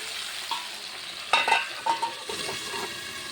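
Potatoes fry in a pan in a home kitchen, a steady soft sizzle with a few louder clinks and stirring scrapes in the middle and scattered bursts toward the end, no voices.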